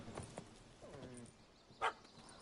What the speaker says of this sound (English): Can hear a dog barking.